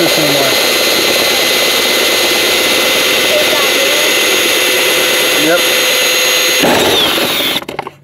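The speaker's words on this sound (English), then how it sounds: "We're just drilling it so we can get in there a little easier" A loud power drill whines steadily for several seconds at close range while installing an intake on a Nissan Armada or Titan, its pitch shifting slightly before it cuts out near the end.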